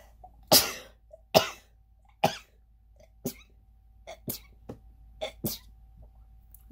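Several sharp, explosive bursts: two or three loud ones near the start, then a string of smaller ones spaced about a second apart, close and alone.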